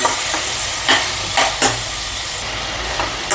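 Onions frying in a pan for a large batch of prawn masala curry, a steady close sizzle and crackle with a few louder bursts as they are stirred, and no voices.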